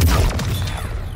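A heavy, low explosion rumbles through a Mortal Kombat 1 fatality finisher: a loud, deep blast that fades over about a second.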